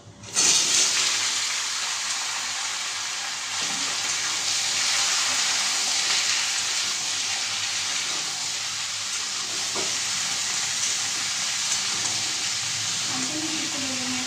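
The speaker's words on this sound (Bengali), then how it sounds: "আর এখানে ধুয়ে রাখা সবজিগুলো এবার আমি কড়াইতে দিয়ে দেবো।" Washed vegetables hit hot oil in a kadai, raising a loud, steady sizzle that holds for the whole stretch, with faint stirring scrapes and no talking.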